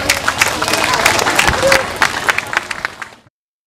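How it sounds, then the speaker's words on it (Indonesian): A crowd applauds three children with Down syndrome at a World Down Syndrome Day event, with dense, steady clapping and a faint murmur of voices. It continues for about three seconds, then cuts off. "Aplaus untuk mereka bertiga."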